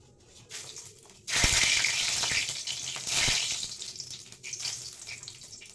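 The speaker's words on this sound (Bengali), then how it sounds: "এবার দিয়ে দেবো ফোড়ন কালো জিরে" Black cumin seeds hit hot oil in a wok for a vegetable dish, bursting into a loud, close sizzle that starts suddenly, surges again midway and then settles into a steady crackle, with no talking.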